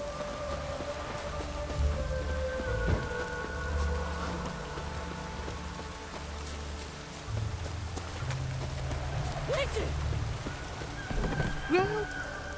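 Rain in The Witcher 3 video game: a steady, soft patter and hiss of rainfall over a low rumbling drone, with a few faint tonal sounds drifting through.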